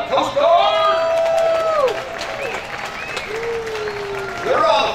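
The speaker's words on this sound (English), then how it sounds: "You can give them a round of applause." A crowd cheers and claps for the Coast Guard at a coastal Christmas boat flotilla, with whoops and yells rising and falling over scattered applause outdoors, loud near the start and again at the end.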